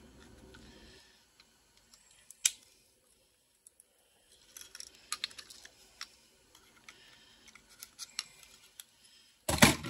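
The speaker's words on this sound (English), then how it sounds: "Cut your plug wire off." Small side cutters snipping plug wire off e-waste at close range, with sharp irregular clicks and snaps scattered among quieter handling noises and a louder burst at the end.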